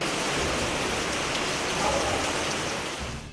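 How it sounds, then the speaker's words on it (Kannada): Heavy monsoon rain pours steadily in Karnataka, a dense unbroken hiss of downpour filling the scene at constant loudness, with no voices. "ಬಿಟ್ಟು ಬಿಡದೆ ನಿರಂತರವಾಗಿ ಮಳೆ ಸುರಿಯುತ್ತಿರುವುದರಿಂದ ಇನ್ನಿಲ್ಲದ ಅವಾಂತರಗಳು ಸೃಷ್ಟಿಯಾಗಿದ್ದು"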